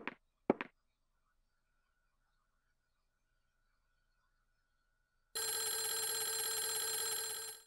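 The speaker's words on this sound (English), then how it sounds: "there's still that phone ringing." A telephone rings in the video game Clock Tower: The First Fear, a loud continuous bell that starts suddenly after a few brief sharp clicks and near silence, with no talk.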